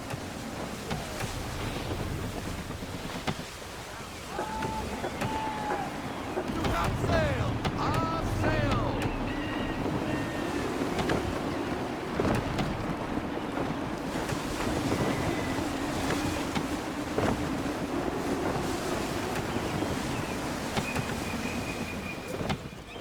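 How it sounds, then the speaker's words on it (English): Gusty wind and rushing sea surround a sailing ship in Assassin's Creed III, a steady roar of air and water beneath voices speaking and occasional creaks and knocks from the vessel. "Wind looks to be shifting. Stay alert, Connor. Gusty winds can be difficult to manage."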